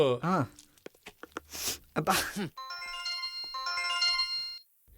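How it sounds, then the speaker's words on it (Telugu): A telephone rings in a film scene with a kitchen conversation going on, its electronic ringtone repeating in steady tonal bursts right after voices talk briefly at the start. "ఫోన్ మోగుతోంది."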